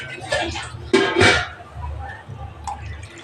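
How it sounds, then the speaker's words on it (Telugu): Water is poured into a pan of mango fish curry, giving a short splashing gush under a person talking, followed by quieter cooking sounds. "అనుకొని సరిపోయిన నీళ్ళు పోసుకుందాం,"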